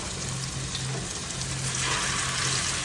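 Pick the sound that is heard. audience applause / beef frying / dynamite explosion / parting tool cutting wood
beef frying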